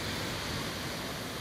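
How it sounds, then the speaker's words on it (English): Sea waves washing on the shore at Swanage, a steady, loud broadband surf rush with no pauses. "That's the sea."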